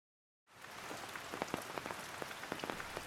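Cold, drizzling rain falls at Teslin Lake, a steady soft patter beginning abruptly after a moment of silence, with scattered individual drops tapping nearby and no voices.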